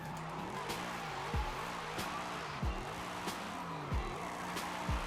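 Engine whine and tire squeal from a 1000 hp BMW M3 drift car in Forza Horizon 5, revs rising and falling in repeated shifts with short sharp skid bursts, loud and continuous.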